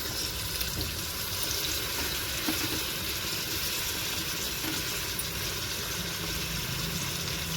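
Onion, ginger-garlic and tomato sautéing in a pan for biryani, a steady close sizzle and frying crackle with occasional stirring scrapes, continuous and alone without talk.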